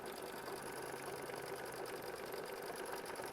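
Embroidery sewing machine stitching a quilted butterfly block, moving from the silhouette toward the antennae for satin stitching: a steady, rapid mechanical whir and needle chatter, close and continuous, with no talk.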